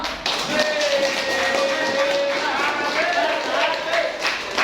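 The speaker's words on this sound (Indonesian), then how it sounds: "Oke, untuk semangat tepuk tangan dulu." Students clap together in a classroom, a loud, fast, dense patter of many hands sustained throughout, with a faint tone audible behind it.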